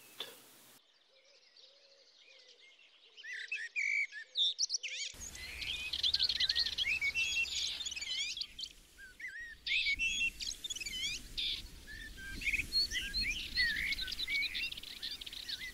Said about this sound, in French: Cette fauvette chante souvent en vol en prenant de la hauteur.